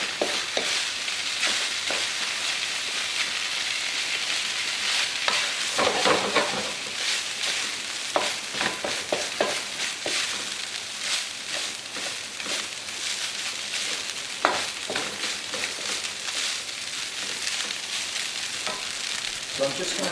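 Warm rice being mixed with soy sauce in a hot pan gives a steady, close sizzle broken by frequent clicks and scrapes of the stirring utensil, with no voice heard.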